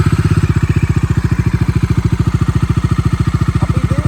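A second-hand scooter engine idles right after starting, putting out a loud, close, rapid and even chugging pulse that holds steady throughout, with no voices over it.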